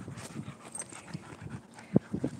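Dogs at a busy dog park, with scattered panting and scuffling sounds and a couple of short sharp yelps or barks near the end, fairly close but not loud.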